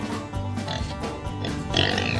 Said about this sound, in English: Damn it, that pig's got out of the laboratory again!